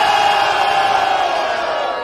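A large crowd cheers and shouts in a loud, sustained roar that fades slightly toward the end.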